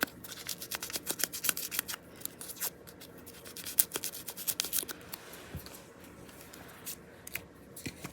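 Scissors snip through paper for a ledger-style handmade journal, a quick run of close, crisp cuts with soft paper rustling between them, quieter near the end.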